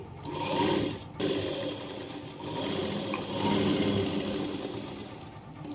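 A sewing machine runs steadily stitching blouse lining, a continuous close whirring hum with one short pause near the start and slight shifts in speed, no voices.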